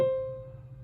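A single piano key, middle C, sounds once and rings on as a clear sustained tone that slowly fades, alone and fairly quiet.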